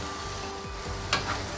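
Beef fries in a pan with sweet soy sauce while being stirred, giving a steady, dense sizzling hiss with a brief scraping clatter from the stirring near the end, close and continuous.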